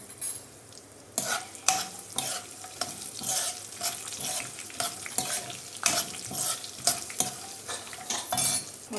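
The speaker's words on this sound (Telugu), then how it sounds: "ఇవి ఆల్రెడీ ఫ్రై చేసి ఉన్నాం కాబట్టి ఎక్కువ ఫ్రై చేయక్కర్లేదు," Garlic and asafoetida frying in a pan for gongura chutney, with a steady close sizzle and repeated scraping stirs of a spoon against the pan, loud and without talk.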